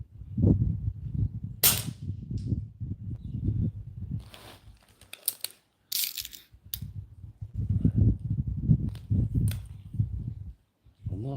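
An air rifle fires QIS pellets at a shooting range, giving a few sharp isolated cracks spaced seconds apart, mixed with nearby voices talking between shots.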